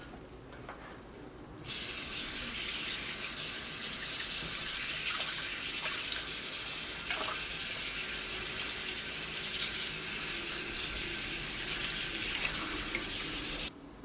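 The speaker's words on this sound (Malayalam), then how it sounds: "അപ്പോൾ നന്നായിട്ടൊന്ന് കഴുകിയിട്ട് എടുക്കട്ടെ" A kitchen tap opens after a short quiet pause and runs in a loud, steady stream for washing broccoli, hissing and splashing continuously until it shuts off just before the end.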